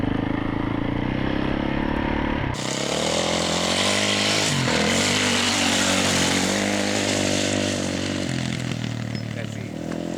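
A BMW F800GS motorcycle idles, then revs sharply and rides off, its loud engine note rising and sustained close by.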